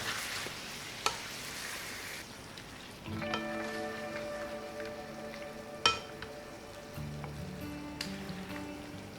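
Chicken curry sautéing in a pan, salted, gives a low continuous sizzle with periodic scraping stirs and a few sharp utensil knocks against the pan.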